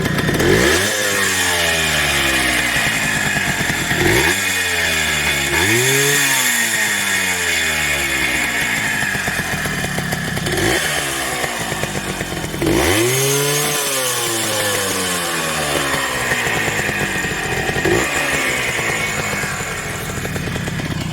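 A Honda H100S motorcycle engine, brought in for repair, runs loud and close, revving up and down in repeated rising and falling surges over a steady idle rattle.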